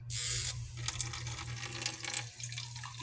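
Tap water runs steadily from a household faucet, a faint continuous splashing and trickling, briefly louder at the start, with a few small knocks and clinks.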